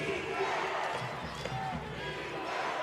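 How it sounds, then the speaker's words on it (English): A basketball arena crowd at a Western Kentucky versus UTEP game chants for defense, a broad rhythmic roar of many voices filling the hall under the game noise. "The minor crowd is chanting for defense."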